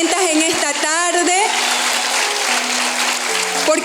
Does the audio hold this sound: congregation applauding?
yes